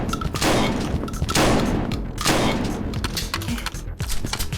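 Rapid bursts of gunfire in the video game Ctesiphon, loud repeated volleys in quick clusters with short gaps between them, no voices over the shots.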